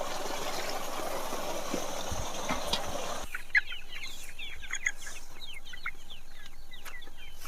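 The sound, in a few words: chickens clucking on an organic farm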